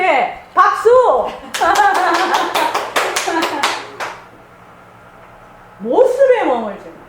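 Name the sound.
audience clapping at a Buddhist dharma talk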